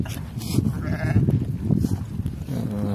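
Sheep in a shepherd's corral on the Son-Kol summer pasture bleat close by, with several overlapping calls from the flock over steady outdoor background noise.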